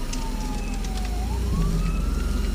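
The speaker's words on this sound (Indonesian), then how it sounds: "Tiba-tiba kedengeran suara sirene ambulans dari jarak jauh." A wailing ambulance siren, approaching from a distance, sweeps up and down over a low rumble of road traffic, fairly loud and steady.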